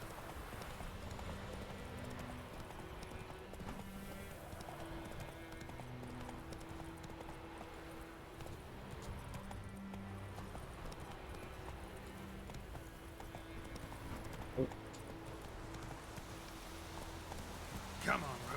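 Roach, the horse in The Witcher 3, gallops with continuous rhythmic hoofbeats under game music, with a couple of short sharp clicks near the end and speech in places.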